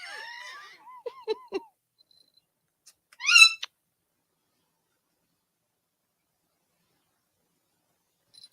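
Short cat meow or yowl, close and fairly clear, preceded by a few soft squeaky vocal chirps from the same animal, then silence for the rest of the stretch.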